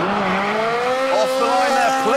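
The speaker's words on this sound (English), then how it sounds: "Naturally, the Ferrari is in race mode, which firms up the suspension, speeds up the gear changes, and backs off the traction control." A Ferrari race car in race mode lapping a test track, its engine note rising and falling through quick gear changes alongside squealing tires, loud and close throughout.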